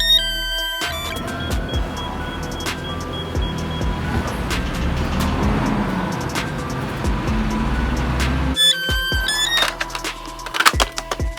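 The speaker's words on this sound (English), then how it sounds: "Garbage truck." A garbage truck rumbles nearby with its engine running steadily, punctuated by mechanical clanks and tonal beeps at the start and end.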